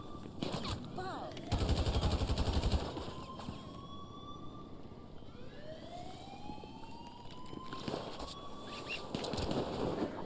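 Gunfire in the video game GTA Online: rapid bursts of shots over a background of sirens and game noise, loudest in a dense burst early on and again later.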